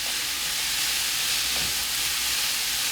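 Julienned potatoes stir-frying in oil in a pan, a steady soft sizzle and hiss running the whole time, close and fairly quiet, with a faint scrape of stirring near the middle.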